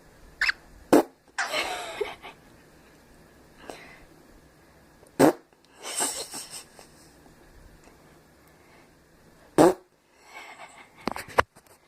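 Short, sharp fart sounds go off near animals that are meant to be frightened by them. About half a dozen separate bursts are spread across a quiet room, with faint rustling between them.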